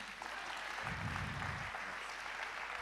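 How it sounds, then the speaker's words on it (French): Audience at a national community gathering in France applauds a guest's arrival, a continuous even clapping wash with a low rumble of voices or movement rising briefly in the middle. "Et je voudrais l'accueillir et vous demander très fort d'applaudir Salah Hamouri."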